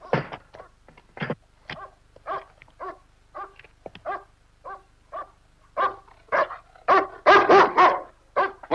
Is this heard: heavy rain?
no